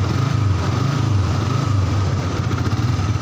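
A Yamaha Vixion motorcycle engine idles steadily after a kick start, a close, even, continuous hum with no talking.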